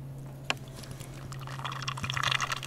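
Faint gurgling and trickling of water draining through the pipes of a flooded 2011 Nissan Quest, with a low steady hum underneath and a brief knock near the start.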